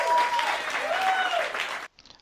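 Recorded applause played as a success sound effect for a completed escape-room puzzle, a dense burst of clapping that runs about two seconds and then stops abruptly, leaving a faint tail.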